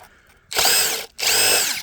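A power drill bores into a burning tree stump in two strong bursts, each roughly half a second long, separated by a brief pause, loud and close with no talking.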